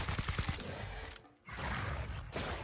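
Video game gunfire from a favoured weapon during a Molten Core raid: loud, rapid bursts of shots fill the first second and a half, break off briefly, then resume as dense sustained firing.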